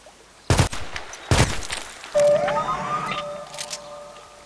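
Handgun shots in the Contract Wars shooter: two sharp, loud reports about a second apart, then a whining, siren-like electronic tone sweeping upward and fading.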